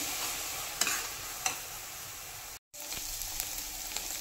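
Pav bhaji vegetables sautéing in a pan on a high gas flame, a steady broadband sizzle with a few sharp stirring scrapes, a brief dropout partway through, no talk.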